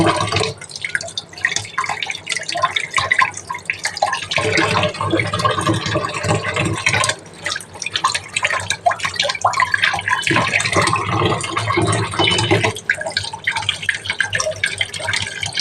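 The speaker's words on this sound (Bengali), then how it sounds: "এবারে এটাকে ভালো করে আমি ধুয়ে নেব" Peeled pointed gourds (potol) being washed in water, giving steady close splashing, swishing and dripping sounds with brief pauses, loud and continuous.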